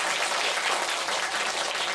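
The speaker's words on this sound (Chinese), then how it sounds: "鼓掌欢迎。" An audience at a public science event claps together in warm welcome, a dense, even roar of many hands close by, steady for the whole stretch.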